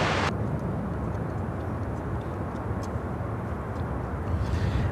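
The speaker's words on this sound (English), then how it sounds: "This is United Airlines Flight 971 coming in from Rome, Italy on the 787-10 Dreamliner" A United Airlines Boeing 787-10 Dreamliner landing at Chicago O'Hare, a loud broad roar of jet engines rushing past close by, steady throughout with no voices.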